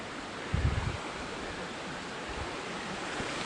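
A steady wash of rushing creek water at a confluence of two branches fills the air, continuous and broad, with a brief low thump near the start.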